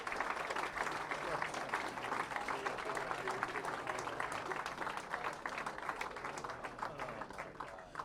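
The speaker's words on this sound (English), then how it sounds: "let's give a big round of applause for your 2022 Junior Team USA members" A crowd at a junior bowling championship gives a round of applause for the Junior Team USA members, continuous clapping with a few faint voices mixed in, moderately distant.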